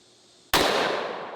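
A single loud, sharp gunshot from a .700 Nitro rifle fired outdoors, cracking suddenly out of quiet and trailing into a long, rolling echo.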